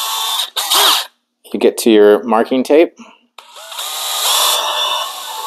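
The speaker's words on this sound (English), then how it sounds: "just let the drill bit do the work" Power drill boring into an aftermarket grille on a Ford Bronco, its broadband whine starting and stopping in short bursts, a longer steady run at the end, with someone talking in between.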